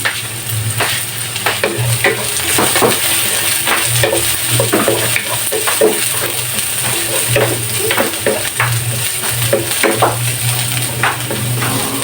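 Onion and garlic sizzle steadily in a frying pan while a spatula stirs and scrapes them in repeated close strokes, with no talking.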